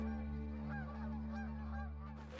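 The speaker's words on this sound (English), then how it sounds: "Geese are in our sights." A flock of geese honks repeatedly in a chorus of overlapping calls over a steady low droning hum, fairly near and sustained, with no talking.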